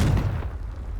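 A Confringo blasting spell explodes in Hogwarts Legacy, a single heavy boom that hits loud right away and then fades into a rumbling tail over about a second.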